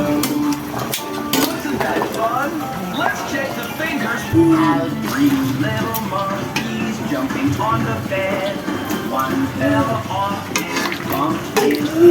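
Tap water runs steadily into a vessel of pork being rinsed, splashing and gurgling, with some clinking and handling noises throughout.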